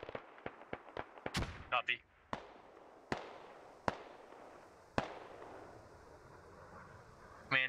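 Gunfire in a military video game: a quick series of sharp cracks followed by single shots spaced a second or so apart, echoing at a distance, with a voice speaking briefly over the radio.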